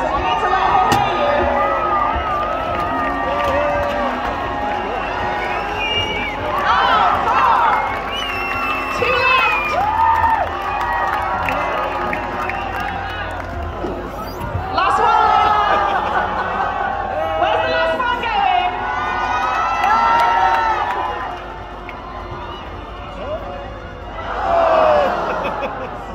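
A tennis crowd at a WTA match in Birmingham cheers and shouts in loud, swelling bursts, mixed with children's yells and steady chatter throughout.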